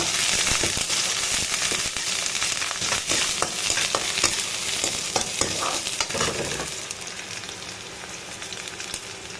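Onions frying and being stirred in a pan with mustard seeds and curry leaves: a steady, close sizzle runs throughout, broken by repeated scraping and clinking stirs, with no talking.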